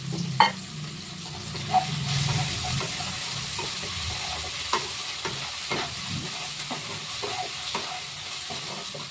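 Ginger-cumin paste sizzles in a hot pan while a utensil stirs and scrapes it, with soft steady frying hiss and scattered clacks of the spoon against the pan.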